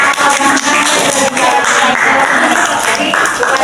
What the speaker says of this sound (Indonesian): kita harus tepuk tangan dulu kan.